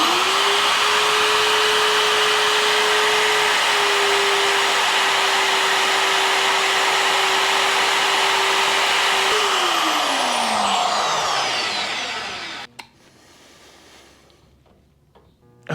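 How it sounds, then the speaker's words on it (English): Magnetic drill boring upside down into a Chevy COE truck frame: a loud, steady motor whine with a long grinding cut, then pitch dropping as it winds down and stops near the end. "Mag drill upside down, not so easy."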